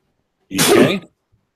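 A single loud sneeze bursts out close by, followed by silence.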